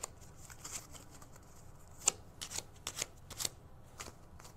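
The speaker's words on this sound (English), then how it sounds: "You can do an overhand shuffle." Soft riffling of playing cards being shuffled by hand, a series of quick irregular flicks and slaps, close and quiet, with no voices.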